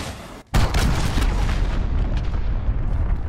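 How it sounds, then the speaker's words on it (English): Cruise missile strike in Call of Duty Modern Warfare: after a brief silent gap, one loud, close, deep boom erupts and then rumbles and crackles on for several seconds. "cruise missile launched"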